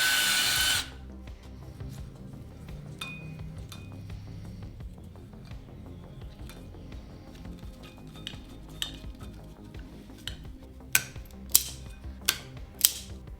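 Drilling a threaded hole for a ground lug in the oiler hatch of a 1940s lathe, a low steady motor drone with small metallic ticks and clinks growing sharper toward the end, no voices.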